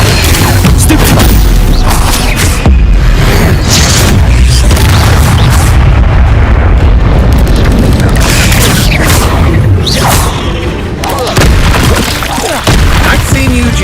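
Spell blasts from the Stupefy charm in the Hogwarts Legacy video game, loud booming bursts repeating over a dense, continuous battle mix, with a voice speaking over the action.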